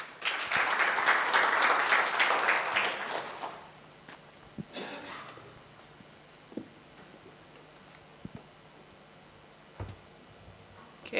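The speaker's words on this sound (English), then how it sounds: "Give a round of applause to the Chief Nezergwa." Audience applause at a food systems challenge event in Rwanda, a loud burst of clapping for the guest of honor that fades after about three seconds, leaving a quiet room with scattered knocks and footsteps.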